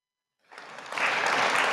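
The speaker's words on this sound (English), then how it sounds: "Can we give him another round of applause?" Applause from an audience at a climate adaptation summit begins after a short silence, swelling quickly into dense, steady clapping that stays loud to the end.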